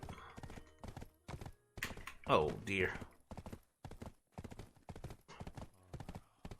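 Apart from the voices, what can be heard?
horse hooves clip-clopping in video game Black Desert Online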